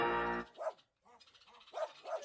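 A dog at a veterinary clinic gives a few short, close barks and yips after a brief sustained tone, with small gaps between the sharp calls.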